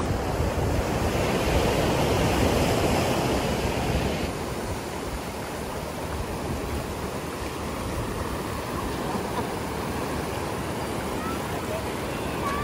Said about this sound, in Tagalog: Andiyan na yung wave!